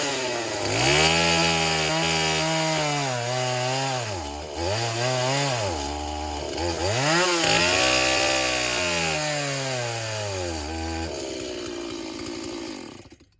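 A chainsaw with a worn carburetor runs with little power, its engine droning and surging up and down in pitch as the throttle is worked, close and loud, then cutting out near the end.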